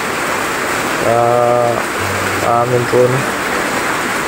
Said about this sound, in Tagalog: Sobrang lakas po ng ulan dito mga kabunso.